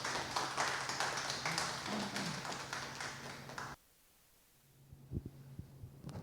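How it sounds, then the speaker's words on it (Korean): A forum audience gives quiet applause to welcome a furniture designer to the stage. The clapping runs for about four seconds, stops abruptly, and a few scattered taps follow. "박수로 맞이해 주십시오"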